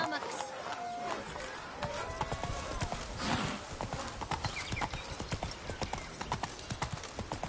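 Horse hooves clatter in The Witcher 3 video game, a steady galloping clip-clop with a brief whinny near the start and talking over it.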